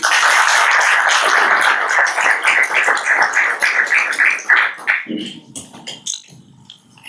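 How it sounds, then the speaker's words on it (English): An audience at a peace and security conference on South Asia claims applause for a speaker, a dense burst of many hands clapping that thins into scattered claps before fading out. "please give a round of applause to Sir Gerald"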